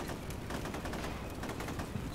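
Gunfire from a video game replay set in a Red Barricades battle, a dense crackling fusillade of overlapping shots and machine-gun bursts running steadily throughout without pause or speech.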